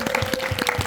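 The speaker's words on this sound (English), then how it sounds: "would you show that card around to everybody to your thunderous applause" At a magic show, the audience claps after a card trick, with a quick patter of separate hand claps in a brief burst and a faint steady tone beneath.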